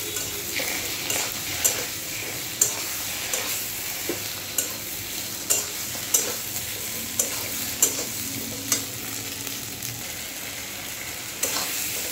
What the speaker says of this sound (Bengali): ভালো করে নাড়াচাড়া করে কষিয়ে নেব।